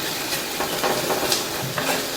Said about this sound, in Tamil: இதை நல்லா வதக்கி விட்டுருங்க